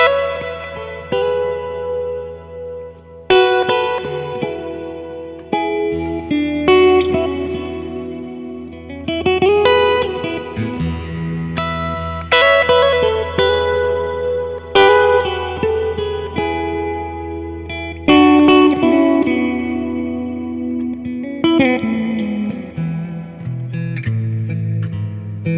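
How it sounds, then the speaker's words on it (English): Clean electric guitar runs through an affordable modulated reverb pedal, strummed chords and picked notes ringing into long, wavering reverb tails, steady and full with no voices. "I think the most usable would be a modulated reverb"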